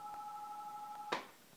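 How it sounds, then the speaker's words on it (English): A telephone rings indoors with a faint, steady two-tone electronic trill held for about a second, cut off by a short thump as it ends. "The phone's actually ringing."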